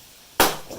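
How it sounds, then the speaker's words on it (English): One sharp pop with a short bright crackle that fades quickly, heard alone in a quiet space: a paintless dent repair glue tab pulling off a hail-damaged Subaru. "that noise was the glue coming apart"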